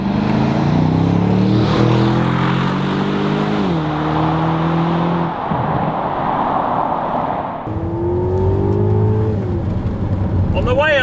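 An Aston Martin DBX accelerates hard, its engine note climbing in pitch and then dropping at each quick gear change, loud and close, with a voice talking over it in places.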